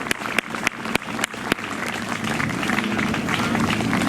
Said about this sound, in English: give it one more round of applause for the 2018 Keeneland Concours Best of Show winner